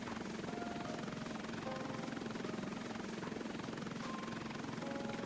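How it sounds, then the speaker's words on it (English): Steady video game helicopter rotor thrum with a continuous engine whine, holding at constant loudness throughout with no voices. "So we'll have the helicopter in the game probably for like search and rescue."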